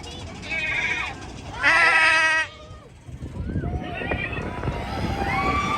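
Goat bleats on a Disney California Adventure ride, with a few loud harmonic bleats near the start, followed by busier, noisier animal calls and crowd sounds.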